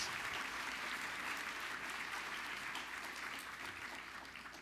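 Warm applause from the audience at the National Book Critics Circle Awards ceremony, dense clapping that holds steady and then begins to taper off near the end, with no voices heard.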